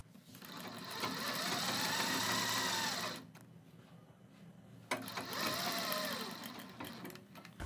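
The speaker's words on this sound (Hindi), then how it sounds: "और इसके बीच में सिलाई लगाएंगे।" A sewing machine stitches along the neckline of a kurti in two steady, fast runs, about three seconds each, separated by a short pause. The stitching is close and clear, with no talking.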